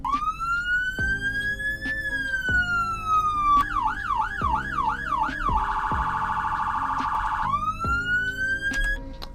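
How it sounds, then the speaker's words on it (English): A sheriff car's electronic siren in the game Greenville cycles through modes: a rising wail, a fast warbling yelp, then a steady high tone, loud and close and heard alone, with dull thumps marking each switch. "The sirens."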